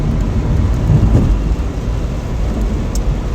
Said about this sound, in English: Going into a little bit of rain here.